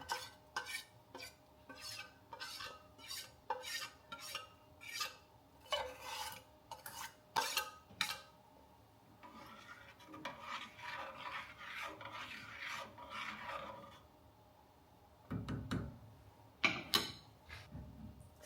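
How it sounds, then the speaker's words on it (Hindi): A spoon scrapes and stirs thickening kheer, a rice pudding with sugar and raisins, in a pot, making soft repeated rubbing and rasping strokes with brief pauses between them. "स्टर करते रहें क्योंकि अब इसने गाढ़े भी होना है।"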